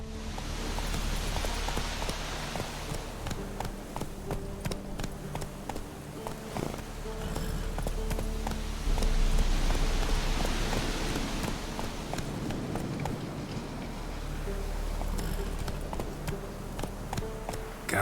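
Roach, Geralt's horse in The Witcher 3: Wild Hunt, gallops through rain, with rhythmic hoofbeats running continuously over a steady hiss of rainfall and occasional low rumbles.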